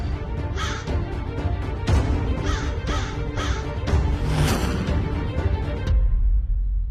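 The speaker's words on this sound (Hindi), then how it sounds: "अब ये कौवा चलाने लग गया।" A crow caws repeatedly, close and loud, with a series of harsh calls in an uneven rhythm over a busy background scene before the sound cuts off abruptly.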